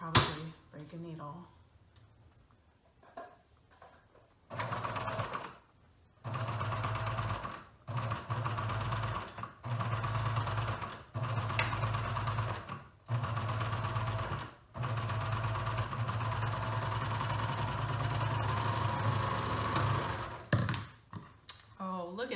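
A sewing machine top stitching a seam runs in a series of steady mechanical whirring bursts, each several seconds long and broken by short pauses, heard close at moderate volume.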